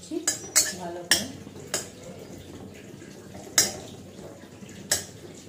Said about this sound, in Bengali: একটা ছোট্ট তেজপাতা, ঠিক আছে, এটাকে আমি ড্রাই রোস্ট করে নিচ্ছি ভালো করে